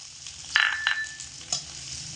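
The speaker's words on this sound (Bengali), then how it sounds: "রসুন আর পেঁয়াজ হালকা লাল করে ভেজে নিতে হবে।" Chopped onion and garlic fry in a pan with a soft, low sizzle, marked by a few brief clinks and scrapes, one followed by a thin lingering ring.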